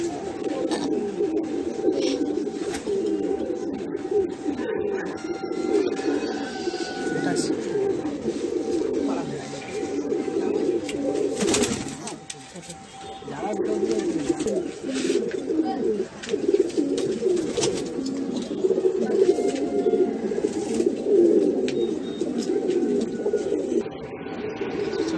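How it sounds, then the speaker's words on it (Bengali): Madrasi pigeons coo steadily in a low, murmuring chorus, with a few voices overlapping, set against faint outdoor background noise. "আজকে দাদার পায়রা দেখলাম তো খুব ভালো পায়রা"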